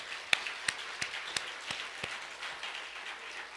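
A church congregation at a Sunday worship service claps in a sparse, loose rhythm of about ten separate claps, faint and somewhat distant, with no talking over them.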